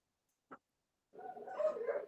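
Dogs sound nearby during a talk: one short sharp yelp, a pause, then a longer whining, yipping bark of moderate loudness, with no one speaking.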